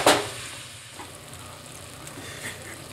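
Onions sizzling gently in a pot during a slow cook, a soft steady hiss with faint crackles after a short clatter at the start.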